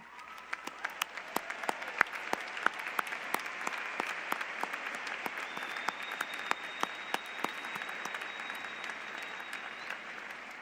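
Audience applause at the Florida State University spring commencement for honor society students standing, sustained, steady clapping from a large crowd heard at a moderate distance, continuing evenly for several seconds.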